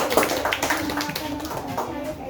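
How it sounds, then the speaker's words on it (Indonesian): Students in a classroom applaud a group that has just presented, with several seconds of steady hand clapping under scattered voices and chatter. "Oke, tepuk tangan buat kelompok ini."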